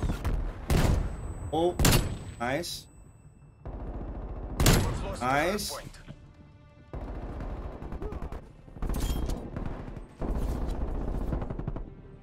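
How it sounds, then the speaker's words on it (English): Hand cannon gunfire in Call of Duty Cold War hardpoint, sharp bursts of shots and impacts spread across the clip among other game effects, with a player's voice reacting briefly between them. "I got my hand cannon."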